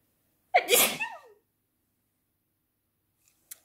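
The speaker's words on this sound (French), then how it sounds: "Je vais éternuer." A single loud, close sneeze bursts out after a brief silence, then quiet follows with a faint click near the end.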